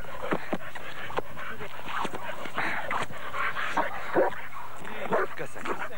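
A trained protection dog pants and whimpers close by, in steady rhythmic breaths with small whines, while people talk over it.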